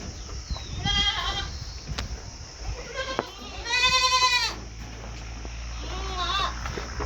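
Goats on a farm bleating several times in short wavering calls, close and fairly loud, with quiet background noise and a person speaking in between.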